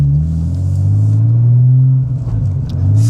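A Nissan Skyline R34 GTT engine rumbles with a deep, steady idle, then blips briefly in a short rev before settling back to its low throb.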